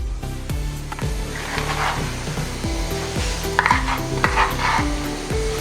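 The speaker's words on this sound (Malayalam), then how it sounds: "2 ടേബിൾ സ്പൂൺ മീറ്റ് മസാല എന്നിവ ചേർത്ത് നമുക്ക് നന്നായി ഒന്ന് സോട്ട് ചെയ്തെടുക്കാം" Beef curry spices, coriander powder, chili powder and meat masala, are stirred and sautéed in a pan, giving soft scraping and light sizzling under louder background music with a plodding melody.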